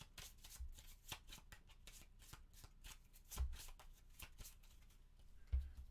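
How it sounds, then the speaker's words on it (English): A deck of board game cards for The Lost Ruins of Arnak is shuffled on a tabletop, quiet, close riffling and rapid card slaps in uneven bursts with a few sharper knocks, no talking. "We're going to go ahead and shuffle here."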